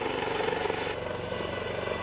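A Japan Ground Self-Defense Force rescue helicopter hovers during flood rescues in Okayama, its steady rotor thump and engine roar filling the scene continuously at close range with no break.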